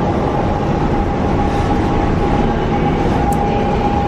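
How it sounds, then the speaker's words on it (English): A Japanese-made subway train runs through Buenos Aires with a steady, loud rumble and a constant high whine from the motors. A brief squeal from the wheels cuts in near the end. "All right, we got a Japanese train."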